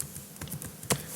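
Quick light taps on a computer keyboard, a short irregular burst of keystrokes with one sharper click near the end, quiet and close.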